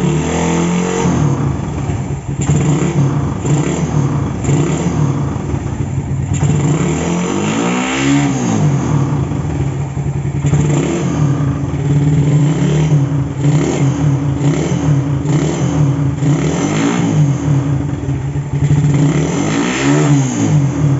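Suzuki Satria FU motorcycle engine fitted with an oversize 250 NPP Tiger piston, revving loudly and steadily close by, with repeated rising throttle blips over a smooth idle and no talk.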